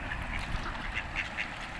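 Ducks being fed in Logroño, Spain, quack repeatedly in short nasal bursts, several calls overlapping at close range against a steady outdoor background.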